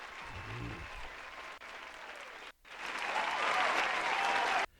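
A small audience applauds in a faint, thin patter that breaks off briefly, then rises into a fuller burst of clapping before cutting off.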